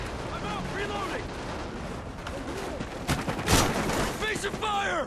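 Call of Duty Ghosts multiplayer firefight: rapid bursts of gunfire and a loud explosive blast mid-clip, mixed with shouted in-game voices calling out reloading and objective status.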